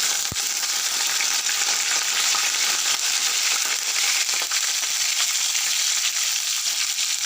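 Curry leaves and green chillies stirred into hot oil in a frying pan, a loud continuous crackling sizzle with a sharp pop near the start and occasional stirring scrapes, close up and without talk.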